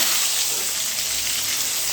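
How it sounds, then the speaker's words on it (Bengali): Eggs fry in oil seasoned with salt and turmeric for an egg and cauliflower dish, giving a loud, dense, steady sizzle that runs unbroken throughout with no speech. "হলুদের গুঁড়ো আর নুন তেলের মধ্যে দিয়ে ডিমগুলো ভাজা যায়"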